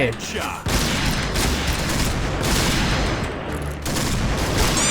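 Rapid sniper gunfire in the video game Point Blank comes as a dense, loud barrage of overlapping shots and blasts, nearly continuous with only a brief dip, alongside other game noise.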